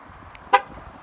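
A Chevrolet Corvette Stingray Z51 convertible gives a single short horn chirp, brief and moderately loud against quiet surroundings.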